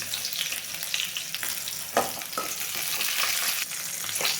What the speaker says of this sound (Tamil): எண்ணெய் காஞ்சதுக்கப்புறம் வரமல்லி பச்சை மிளகா வரமிளகா கொஞ்சமாக சீரகம்